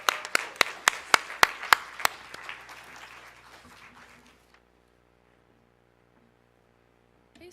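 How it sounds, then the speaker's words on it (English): A council meeting audience gives a round of applause for standing committee chairs, steady clapping from a moderate-sized crowd indoors with a few louder individual claps, fading out after about four seconds into quiet room hum. "can we get one final round of applause for all of the chairs of our standing committees?"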